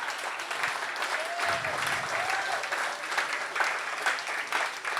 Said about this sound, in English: how about another round of applause for all of our speakers?